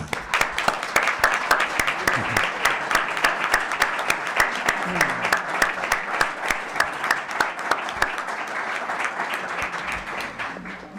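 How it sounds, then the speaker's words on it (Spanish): Audience at a tribute event in Alhama de Granada gives sustained applause, loud sharp claps in a busy rhythm continuing for several seconds, with faint voices beneath. "Vamos a darle un aplauso a Enrique."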